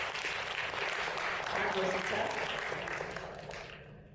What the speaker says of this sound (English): Please help me give her a big round of applause.